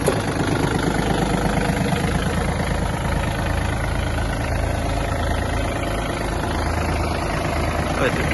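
A Yanmar AF-226 Japanese mini tractor's small diesel engine idles close by with a steady, loud rumbling chug that holds an even pace throughout.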